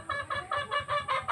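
Native hens close by give a run of quick, nasal clucks in a steady repeated rhythm, about six short calls in a row with no talking.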